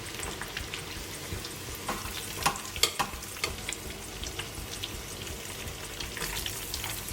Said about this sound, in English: Here's some ASMR, because frying sounds so good.